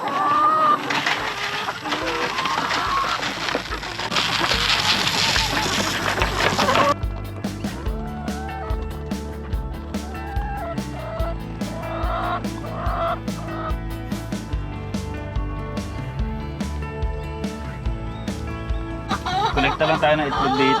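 Chickens on a farm cluster at a bamboo feeder, their clucks and calls rising through steady background noise and running under spoken talk for much of the time.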